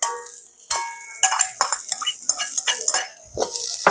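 Eggs stirred into frying onions in a pan, with a metal spoon scraping and clinking against the pan in short irregular strokes and faint sizzling between them, close and clear.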